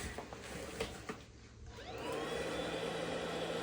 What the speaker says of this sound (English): Turn the lathe up. Drop the lathe down a bit.